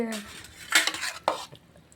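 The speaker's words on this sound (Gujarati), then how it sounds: "આવી રહ્યો એક ચમચો આ દેવભાઈને દીધો" Metal spoons clink against dishes as Maggi noodles are served, a few close, sharp clinks and scrapes with a louder strike near the middle, and no talking.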